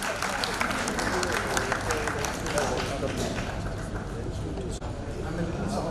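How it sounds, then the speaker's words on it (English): Audience at an education event in a hall breaking into a big round of applause, dense steady clapping that stays loud and close for the whole stretch before easing slightly near the end. "Big round of applause."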